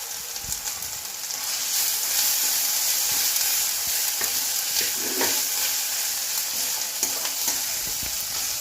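Ginger garlic paste sizzles in a hot pan while cooking a Bengali prawn and taro stolon dish, a close, steady frying hiss broken by occasional stirring scrapes.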